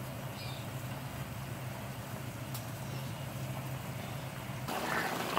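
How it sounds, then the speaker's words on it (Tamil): Spinach koothe simmers in a pot with a faint, even bubbling hiss over a low hum, rising slightly toward the end. "இப்போ நல்லா ஒரு கொதி வந்துடுச்சு."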